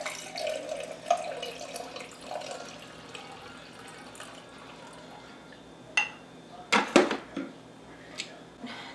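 Cooled coffee is poured into a cup holding a single ice cube while making caramel iced coffee; a soft, steady liquid trickle runs throughout, then a few sharp clinks and splashes stand out near the end, with no talk.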